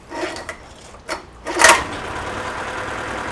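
A rusty, salt-worn Yamaha F9.9B outboard motor gives a few short bursts as it is cranked, then catches with a loud surge and settles into a steady, buzzing idle nearby.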